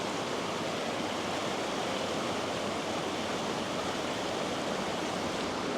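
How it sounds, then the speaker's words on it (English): Rushing river rapids in Yosemite give a dense, steady roar of flowing water, loud and unbroken throughout with no voices. "just listen to the water for a minute"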